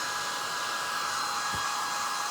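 A hair dryer blows with a constant, steady whoosh close by as it dries a craft pumpkin, with one brief low bump partway through and no talking.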